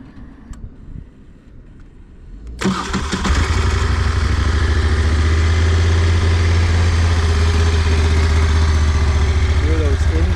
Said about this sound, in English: Hear those engines roar to life.